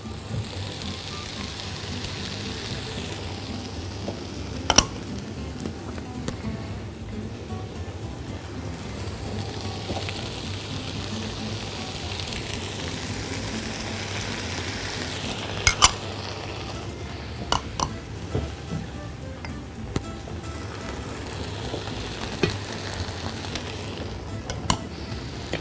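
Eggs frying in a second pan while a first pan sits half-covered give a steady, close sizzling hiss, broken by occasional sharp clinks of pans and utensils, with no talking.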